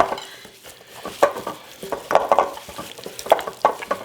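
Seasoned oxtails are tossed and stirred in a pressure cooker, producing a run of uneven soft thuds, scrapes and metallic clinks with a light sizzling texture, close and moderately loud, with no talking.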